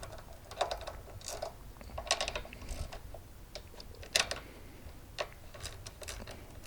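A 10mm socket ratchet clicks in short, irregular bursts while loosening parts on a Coleman CT200U-EX mini bike carburetor, close and fairly quiet, with no talking.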